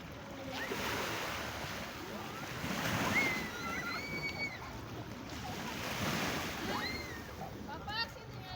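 Sea waves wash along a beach where a family is swimming, a soft continuous surf with gentle swells rising and easing, joined by wind buffeting and distant voices and shouts of children playing in the water.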